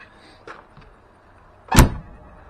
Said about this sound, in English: Doors all shut beautiful on these old cars.